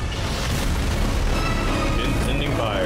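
Ship cannons fire in a naval battle video game, a dense barrage of booming blasts and rumbling impacts that runs continuously and loud, nearly merging into one roar.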